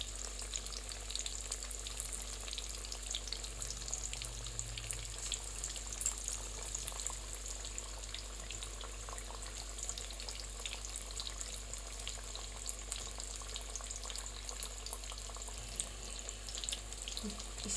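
Onion pakoras deep-frying in oil in a kadhai, a continuous soft crackling sizzle held steady and fairly faint over a low hum, with no talking.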